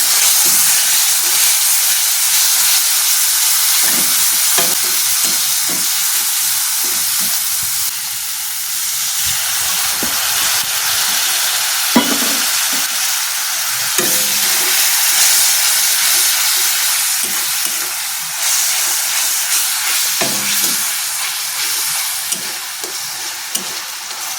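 Masala frying in a pan with a little water added, a loud continuous hissing sizzle of steam that holds steady throughout, with faint stirring scrapes underneath.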